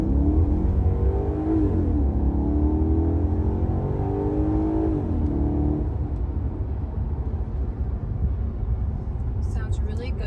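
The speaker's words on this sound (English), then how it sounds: "Sounds really good. I hear the V8 really well." Rumbling V8 engine of a 2013 Maserati Quattroporte, loud and steady throughout with a rising rev in the first half, under a person talking.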